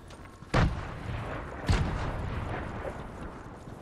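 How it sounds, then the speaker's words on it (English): Gunfire in the Fortnite video game: two sharp, booming shots about a second apart, each trailing off into a low rumble, heard close and alone. "Shots."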